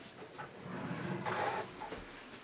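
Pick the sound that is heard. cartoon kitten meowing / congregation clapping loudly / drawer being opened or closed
drawer being opened or closed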